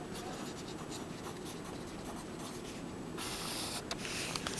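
Pencil writing on paper gives a steady, close scratching that runs unbroken throughout and grows a bit louder near the end.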